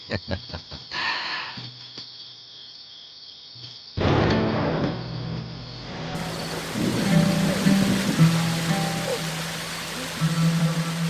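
Steady rain falls outdoors, a broad continuous hiss that swells in abruptly partway through and then holds loud and even, with low patter beneath and no voices over it.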